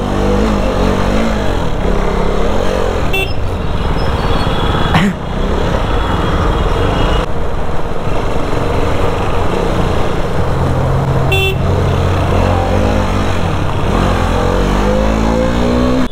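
A BMW G310RR motorcycle rides through a city traffic jam, its engine droning loudly and steadily with surrounding traffic noise and brief sharp bursts that could be horns.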